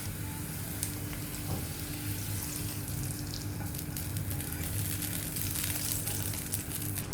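Fried capsicum mixture, just sautéed on high flame, is poured over chicken in a home kitchen, giving a soft, steady sizzle and hiss with faint clicks, heard alone without talking.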